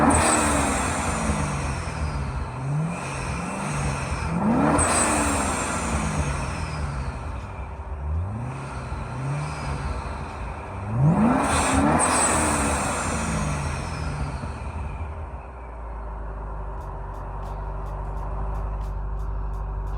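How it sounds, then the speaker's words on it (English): Supercharged C6 Corvette heard from inside the cabin, engine revving up and dropping off twice, each release followed by a short blow-off valve whoosh, loud and close, then settling to a low idle. "I'm gonna give you guys a couple of whoosh sounds to let you hear the blow-off valves."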